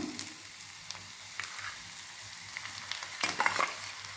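Mashed potato is sautéed with onion in a pan, giving a quiet sizzle under repeated scraping and stirring strokes of a spatula that grow busier and louder toward the end.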